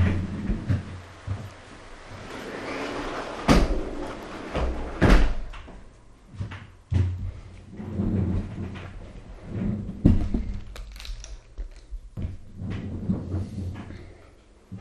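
A door is pushed shut with a few knocks and a firm thump, amid shuffling handling noises in a quiet room.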